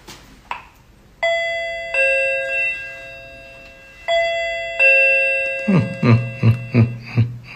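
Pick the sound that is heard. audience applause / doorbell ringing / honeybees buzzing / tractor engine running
doorbell ringing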